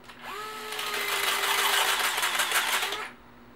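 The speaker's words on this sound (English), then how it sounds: "when you're reaming with it, it's kind of like you're using a regular reamer" A DEWALT DCF681N2 cordless screwdriver fitted with a conduit reamer spins up and runs for about three seconds with a close, steady whine and gritty scraping, then stops abruptly.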